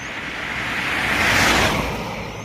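A car passing along a roadside, its broad rushing noise swelling to a peak midway and then easing off, with wind across the microphone.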